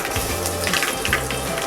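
Garlic frying deeply in oil over a low flame while tempering a South Indian curd curry, giving a steady close sizzle with soft crackles and no talk.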